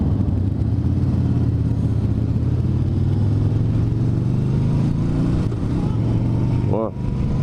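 A Yamaha Star Bolt motorcycle being ridden, its engine a loud, steady low rumble throughout, with a slight shift in pitch near the end.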